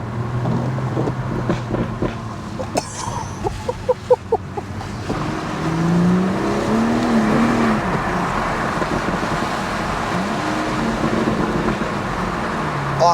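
BMW M240i with the GPF/OPF particulate filter deleted, accelerating hard: a loud, raspy exhaust roar rising through the revs, with a few sharp crackles early and a steady drone that stays close and continuous.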